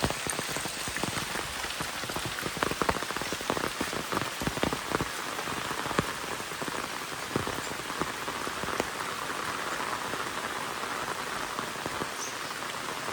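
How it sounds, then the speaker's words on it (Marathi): Heavy rain pours over a village, a dense, steady hiss of drops pattering on surfaces with scattered sharper splats throughout, constant and unbroken with no voices. "आता पाऊस लागलाय"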